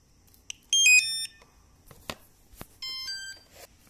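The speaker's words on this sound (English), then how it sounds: "So you heard that the UHF transmitter beeped first, followed by my radio also had a beep." A UHF transmitter for long-range FPV control and an RC radio transmitter beep on power-up: a short click, then a bright electronic tone sequence, a sharp tick, and a second beeping tone pattern, all close and clear with no talk.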